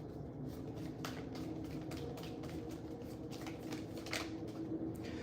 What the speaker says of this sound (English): We're going to go ahead and shuffle these ones here.